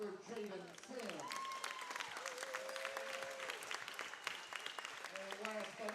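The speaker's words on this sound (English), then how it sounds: "A round of applause for Jaden Sims." Spectators at a college basketball event applaud a player, a soft, distant wash of clapping that runs steadily with voices faintly over it.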